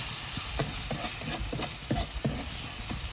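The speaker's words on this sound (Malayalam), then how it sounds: "നന്നായിട്ട് ഇളക്കി കൊടുക്കുക പച്ചമണം പോകുന്ന വരെ ഇങ്ങനെ അളക്കണം" Onions frying in a pan for chicken curry, stirred with a spoon that scrapes and taps at an uneven rhythm over a steady close sizzle, with no talking.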